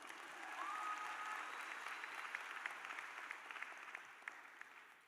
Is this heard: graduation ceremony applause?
yes